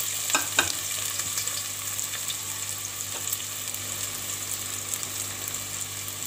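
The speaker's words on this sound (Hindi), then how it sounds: "ये हमारे प्याज तो थोड़े से हल्का हम इसको फ्राई करेंगे" Sliced onions frying lightly in hot oil, a continuous close sizzle with a couple of sharp clatters early on and faint stirring, no speech.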